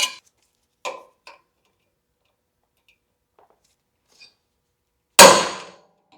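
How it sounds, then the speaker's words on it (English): A few sharp metallic taps spaced apart, then one loud ringing strike near the end, as a center punch is hammered into a metal bracket. "so let's center punch that and drill some holes"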